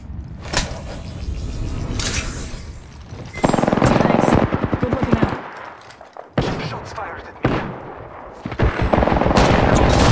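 Automatic and rapid gunfire from a shooter video game, loud and dense, in sustained bursts broken by short pauses, with rattling fusillades and sharp reports throughout.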